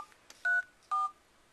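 Dialing tones from a Motorola Droid touchscreen phone: two clear electronic beeps a half second apart after a couple of faint taps, alone in a quiet room.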